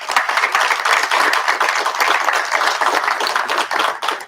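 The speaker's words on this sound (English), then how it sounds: "So give them a round of applause, please." An audience at the Battle of the Briar 2024 event breaks into applause: dense, continuous clapping from many hands, fairly close and sustained throughout.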